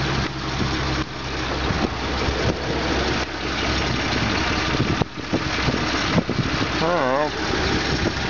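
A 1953 Kaiser Deluxe car engine idles steadily close by, recently brought back with a rebuilt carburetor, a low even rumble running throughout while someone talks over it.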